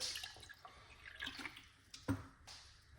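Water is poured into a container during the preparation of a weight loss drink, giving a soft trickling and splashing pour with a brief louder splash partway through and faint drips.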